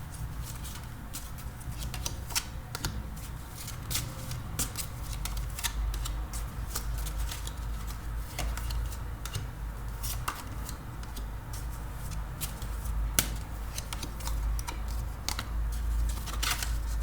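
Tarot cards being shuffled by hand, a steady run of crisp riffling flutters and soft slaps, close and fairly quiet, with no talking over it.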